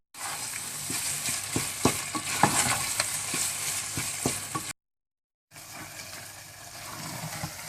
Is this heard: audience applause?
no